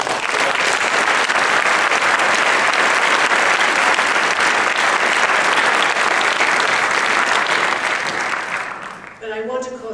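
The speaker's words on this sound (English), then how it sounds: "perhaps we can give them a round of applause" A large convention audience applauds continuously and loudly for about nine seconds in a dense, even wash of clapping, which fades out at the end.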